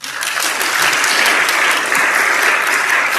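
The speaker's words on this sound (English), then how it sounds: "Can we get another round of applause for Kevin?" Audience applause at the close of an architecture lecture, a dense steady clapping that swells quickly and holds loud and even throughout with no talk over it.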